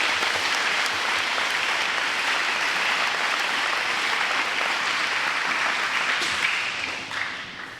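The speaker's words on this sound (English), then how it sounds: "Can we please give them another round of applause?" A school audience at a Veterans' Day program applauds steadily, dense clapping filling the hall at an even, loud level before tapering slightly at the end.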